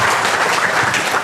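Audience applause for Kangen Water at a marketing presentation, a dense, steady clatter of clapping that runs loud and unbroken through the whole short burst.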